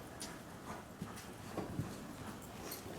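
Horse trotting in a riding arena, faint irregular hoof thuds on soft footing at moderate distance, quiet and without talk.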